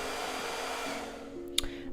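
A blow dryer runs steadily close by in a room where someone is painting, giving a constant airy whir with a faint tonal hum and a brief click near the end.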